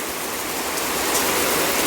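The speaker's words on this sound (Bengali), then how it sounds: "আর বৃষ্টি চলে এসছে ভালোই জোরে বৃষ্টি পড়ছে" Heavy rain pours down in a dense, steady hiss with no break, loud and close, drumming on nearby surfaces throughout.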